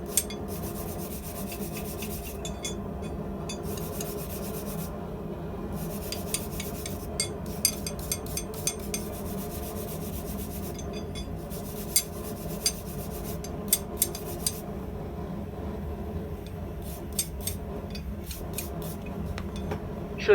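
A brass brush scrubs the handle end of hand-forged steel steak tongs, a steady close rasping rub with scattered sharper scratches throughout.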